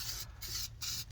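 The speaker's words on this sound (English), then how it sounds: "Now I'm going to go ahead and spray some terminal protector on that." Terminal protector sprayed onto a car battery terminal of a 2014 GMC Acadia, three short hissing bursts in quick succession, close and clear with no talk.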